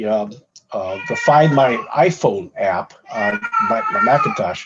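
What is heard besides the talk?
elderly cat meowing in background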